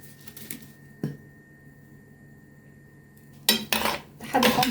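A spoon clinks and scrapes against a bowl while spice marinade of pepper, salt, pomegranate molasses and chili sauce is stirred, with a single knock early, a quiet gap, then bursts of busy scraping and clatter at the end.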